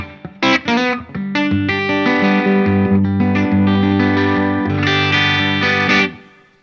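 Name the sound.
electric guitar through amp's virtual speaker cab, XLR outs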